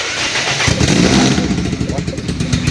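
An engine cranks and catches via a phone-controlled remote starter kit, then runs with a rough rumble and slight revving, close by, while someone talks over it.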